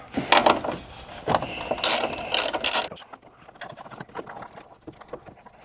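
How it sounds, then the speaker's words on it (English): A wrench works loose the 12 mm battery terminal nut on a 2010–2024 Toyota 4Runner, giving close, quick metallic ratcheting clicks in uneven bursts, louder at first and then quieter and sparser. "you can loosen up this 12 millimeter nut right here to give it a little slack on that"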